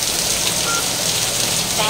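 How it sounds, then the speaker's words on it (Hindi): Heavy rain pours steadily outside a modular kitchen workshop, a dense continuous hiss filling the scene with no breaks. "बहुत बारिश हो रहा है"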